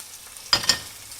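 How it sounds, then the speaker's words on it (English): A fish fillet is laid into a hot pan, setting off a short burst of sizzling that rises sharply and fades within a second against a quiet background. "let's go and cook the fish. Place your fish on top."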